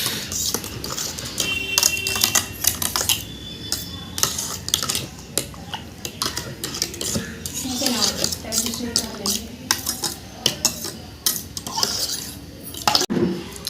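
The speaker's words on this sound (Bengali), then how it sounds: "মিক্স করে নিতে হবে চামচের দ্বারা।" A spoon stirs raw mango juice with cold water in a container, giving rapid clinking taps against the sides in uneven bursts, close and fairly loud, with a voice talking partway through.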